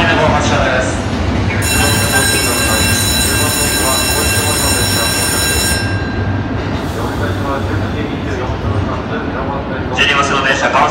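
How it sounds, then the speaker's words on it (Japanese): A JR 215-series Shonan Liner electric train departs Shinagawa Station, rumbling steadily with a long high-pitched squeal of wheels or motor whine for several seconds, station noise and distant talk mixed in. "ただいま11番線の湘南ライナーを発車をいたしました"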